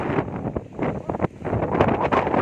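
Strong wind gusting across an open hilltop at Amappara near Ramakkalmedu, a loud, continuous roar buffeting the microphone with surging gusts throughout.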